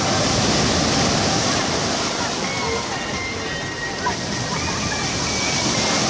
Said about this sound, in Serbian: Talasi nas dopratili, talasi nas ispraćaju.